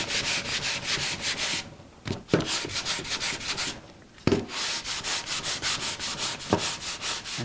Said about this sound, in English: We'll go on to sanding.